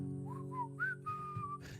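A person whistles a short melodic phrase of rising and falling notes along with a song, clear and close over a steady instrumental background.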